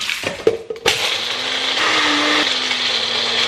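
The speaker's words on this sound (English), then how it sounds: "I'm actually gonna crush this up first." A blender whirs loudly after a few sharp knocks, its motor grinding steadily as it crushes ice for a few seconds in a kitchen.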